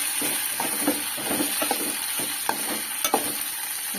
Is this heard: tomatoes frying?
yes